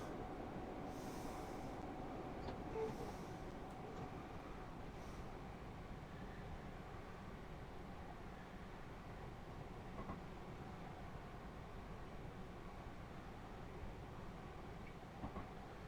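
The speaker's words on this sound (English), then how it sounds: "I love driving this train, I really do." A train running in the Train Sim World 6 video game on the Glasgow to Edinburgh Waverley route gives a low, steady rolling rumble throughout, faint and even, with a few light squeaks and clicks.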